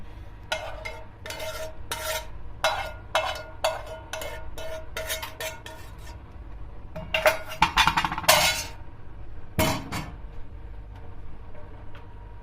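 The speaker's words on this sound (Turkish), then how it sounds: "Şimdi kaynayan sosumuzu üzerine döküyorum." Boiling sauce is poured over fellah köfte and then stirred with a spoon, giving a series of close, crisp clinks and scrapes against the dish in an irregular rhythm.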